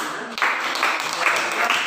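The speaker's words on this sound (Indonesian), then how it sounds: "tepuk tangan untuk kita semua" Classroom of students clapping together, a short burst of applause that starts abruptly and continues evenly, with a voice faintly present at the start.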